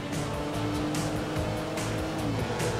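A car engine in Grand Theft Auto 5 revs and roars loudly, with a steady drone and periodic bursts of higher noise, heard alone without talk.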